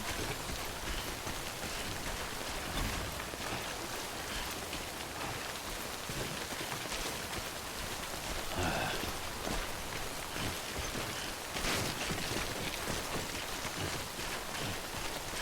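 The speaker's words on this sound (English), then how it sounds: "I also have a rain." Rain falling in the video game Death Stranding, a steady, fairly quiet hiss of drops that runs unbroken throughout, swelling briefly louder a couple of times.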